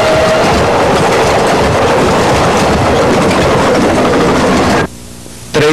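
A FEPASA metropolitan commuter train in Greater São Paulo rumbles loudly along the rails with a steady rushing roar and rhythmic wheel noise, then the sound drops off abruptly near the end.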